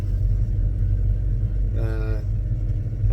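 An LS V8 in a Chevrolet C10 pickup, suspected of a fuel pump fault, idles with a deep, steady low rumble close by, and a voice briefly speaks partway through.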